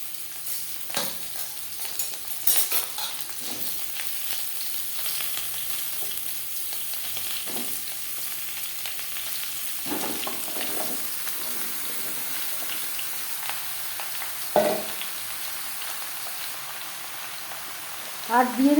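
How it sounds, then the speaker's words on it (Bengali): Bottle gourd pieces fry in a pan with cumin, dry chilli and bay leaf for a moong dal dish, making a moderate steady sizzle broken by occasional spatula scrapes and stirring knocks, louder near the end. "লাউ আমি একটু ভেজে নেব"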